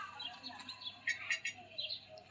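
Birds chirp above a home vegetable garden, faint short tweets and calls scattered in quick bursts against a quiet outdoor background.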